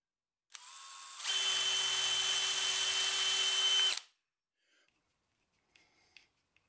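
A power drill whirs steadily for a few seconds at high speed, drilling a hole in a steel plate, then winds down, followed by faint clicks and taps.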